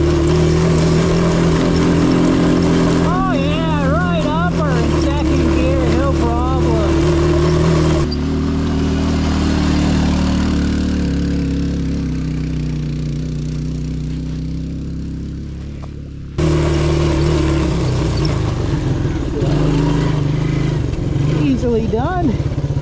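A 1984 Suzuki LT185 ATV engine drones loudly in second gear, its pitch rising and falling with throttle; the sound dips to a quieter stretch before surging back, and someone talks over it at times.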